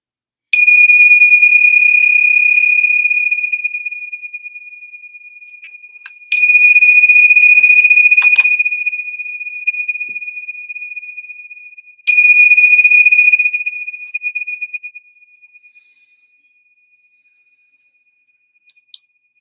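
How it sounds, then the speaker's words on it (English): Three bright, sustained metallic rings from tingsha cymbals, each struck and left to fade slowly into silence, spaced about six seconds apart, clear and close with no talking. "The ringing of these tingshaws clear the energy"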